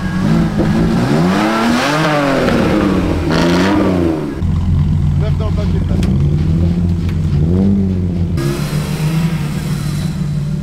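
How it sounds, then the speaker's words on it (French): A drift car's engine is revved repeatedly while the clutch and tires are warmed up in a field, rising and falling loudly in close surges, with someone talking over it. "je vais faire chauffer un petit peu la voiture, l'embrayage, les pneus, sans déraper"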